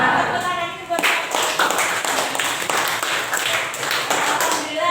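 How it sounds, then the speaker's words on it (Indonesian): A classroom group claps for the teacher, a dense burst of hand claps starting about a second in and continuing steadily, with voices talking over it. "Tepuk tangan ini buat saya."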